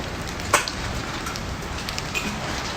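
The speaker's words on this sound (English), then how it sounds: "Torrential rains, howling winds, and hailstorms like ice bombs have inundated the eastern region of Saudi Arabia" Heavy torrential rain pours steadily in eastern Saudi Arabia during a hailstorm, a dense continuous hiss with a few sharper impacts standing out.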